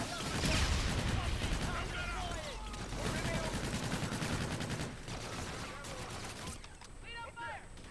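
Rapid gunfire crackles through a spaceship battle video game, dense and steady bursts with a brief lull near the end, under a person's continuous talking.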